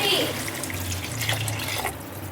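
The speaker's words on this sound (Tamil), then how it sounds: "தேவையான அளவுக்கு கொஞ்சமாக தண்ணி மட்டும் ஊற்றிக்கலாம்." Water is poured into a pan of vegetables for kurma, a short splashing, trickling stream heard close up.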